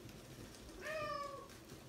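A house cat gives a single clear, drawn-out meow lasting about half a second, close to the microphone, in an indoor room with a faint background hum.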